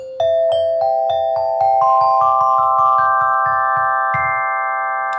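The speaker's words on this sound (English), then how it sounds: "And that is the alto glockenspiel." An alto glockenspiel struck with hard rubber mallets plays a rising sequence of clear ringing notes, about a dozen evenly spaced strikes climbing step by step, bright and close, each tone sustaining under the next.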